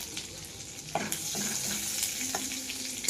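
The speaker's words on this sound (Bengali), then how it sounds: "এখন কড়াইয়ে তেল দিয়ে দিয়েছি। দিয়ে দেবো গোটা জিরে, লঙ্কা আর তেজপাতা," Whole cumin, dried chili and bay leaf crackle and sizzle in hot oil in a kadai, a steady bright frying hiss with sharp pops and a few stirring scrapes, close and with no talking.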